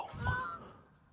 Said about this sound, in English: there's a bunch of Canadian geese like right over my head